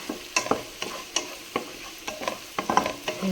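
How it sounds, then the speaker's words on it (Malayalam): Whole spices sauté in a pan for egg biryani: two cinnamon sticks, two cloves and two crushed cardamom pods. A soft sizzle sits under repeated sharp spoon taps and scrapes, close and irregular. "നന്നായി വഴണ്ട് വരട്ടെ"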